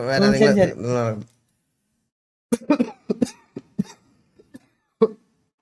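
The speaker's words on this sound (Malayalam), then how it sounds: "അവന്റെ നശിച്ച ഒരു ചുമയാണ് എനിക്ക്" A person speaks briefly, then after a pause coughs in a series of short, sharp bursts, fairly close.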